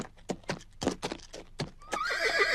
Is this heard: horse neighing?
yes